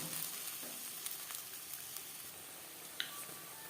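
Paste of tomatoes, ginger and green chillies fries in hot oil for a fish curry, giving a soft, steady sizzle with faint stirring clicks and a couple of light taps, quiet and close.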